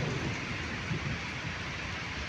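Heavy rain pours steadily while loud thunder rolls low and continuous beneath it, a dense, unbroken storm rumble with no distinct cracks and no voices.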